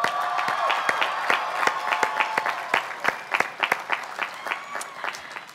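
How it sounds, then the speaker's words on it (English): Audience applause at a hospitality management college commencement ceremony, a dense wash of many hands clapping with sharp individual claps standing out, steady and loud before gradually tapering toward the end. "Let's offer them a round of applause."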